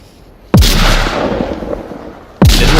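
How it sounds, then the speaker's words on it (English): Two loud, close grenade blasts in the VR shooter Onward, each a sharp boom with a long rumbling tail, the second arriving about two seconds after the first. "Grenade."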